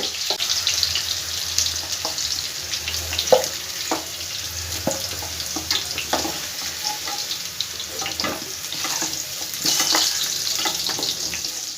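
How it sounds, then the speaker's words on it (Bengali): Potatoes fry in oil in a pan, a close, continuous sizzle with frequent sharp crackles and pops plus occasional utensil knocks throughout. "আলুগুলো আমার মোটামুটি ভাজা হয়ে গেছে এর থেকে আর বেশি ভাজার দরকার নেই"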